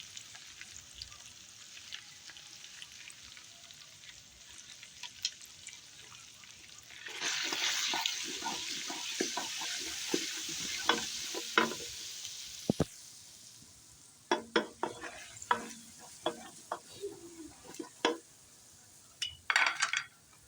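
Keema fries with turmeric, crushed coriander, tomatoes and ginger garlic for aloo keema; quiet at first, then a fuller sizzle rises with scattered sharp clicks and scrapes of a spoon against the pot.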